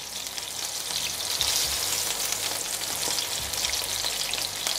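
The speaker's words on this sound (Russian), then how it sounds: "И жарю следующую партию." Lazy cabbage roll patties fry in a pan with a steady, close sizzling hiss and faint crackles throughout, no voices present.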